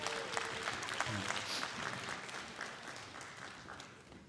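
A youth congregation applauds at a Sunday youth service of Gunsan Dream Church in Korea. The clapping is steady and fairly faint, spreads across the room, and carries on for several seconds with no talking.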